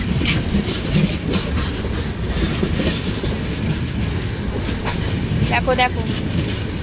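The Duronto Express, running from Howrah to Mumbai, rolls past a trackside spot near Tatanagar with a loud, steady rumble and rapid wheel clatter, plus a thin squeal near the end, while a voice calls out over it.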